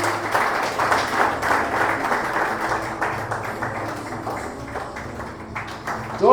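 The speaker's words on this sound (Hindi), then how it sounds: "जोरदार तालियां।" A congregation at a Sunday evening prayer service claps steadily and loudly for several seconds, dense applause that fades slightly before a brief swell at the end.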